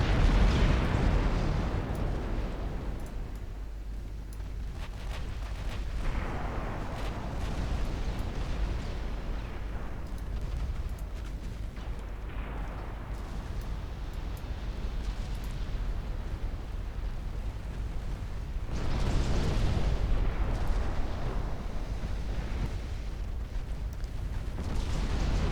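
Battleship naval gunfire in the video game Ultimate Admiral Dreadnoughts: deep booming salvos roll out under a constant low rumble, with louder bursts near the start, middle and end, each fading slowly.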